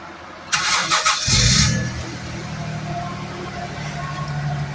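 A Jaguar S-Type engine cranks with a whirring starter for about a second, catches, and settles into a steady idle under a constant loud fan hum.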